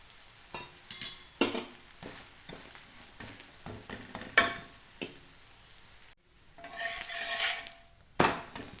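An adai lentil crepe fries in oil on a pan, a steady close sizzle broken by sharp scrapes and clinks of a utensil against the metal, with one brief quiet gap before the frying resumes.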